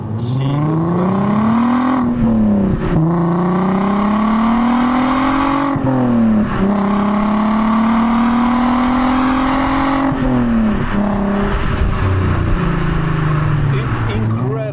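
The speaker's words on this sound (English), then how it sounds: "I absolutely love the sound of this car." A VW Golf R32 Mk5 engine revs repeatedly, its loud tonal note climbing and falling through several gear-like sweeps, close by, with someone talking over it.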